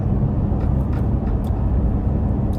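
A truck drives with a loud, steady low road rumble and engine noise heard from inside the cab, with brief faint ticks over the top.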